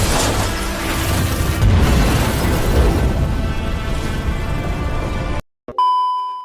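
A dense, rumbling roar fills the clip, fading into a brief gap, then a clean electronic tone rings out alone.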